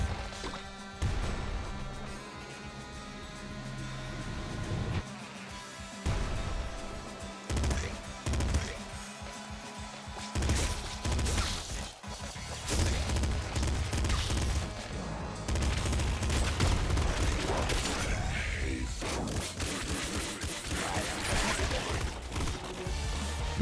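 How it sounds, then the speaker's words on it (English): Shots ring out from a gun in the video game Enter the Gungeon, with rapid bursts, crashes and booms over busy game music and effects, mostly continuous and moderately loud. "This is a very dangerous gun. Let's use it."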